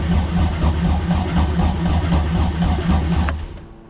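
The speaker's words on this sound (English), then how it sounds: "You then run the starter motor, which acts as a purge" Engine of an airplane-engined dune buggy turning over on its starter motor with a steady, heavy low rumble and rhythmic pulsing, loud and close, fading out near the end.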